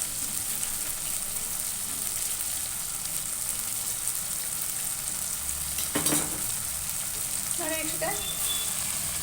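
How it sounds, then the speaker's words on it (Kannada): Chopped spinach going into hot oil for palak dal, a constant soft sizzle with a clatter of utensil on the pan partway through and a faint knock later. "ಸೊಪ್ಪು ಸೇರಿಸ್ತಿದ್ದೀನಿ ಇದೇ ಥರ ಎಲ್ಲ ಸೇರಿಸ್ಬಿಟ್ಟು ಒಂಚೂರು ಬೇಯಿಸ್ಕೊಳೋಣ"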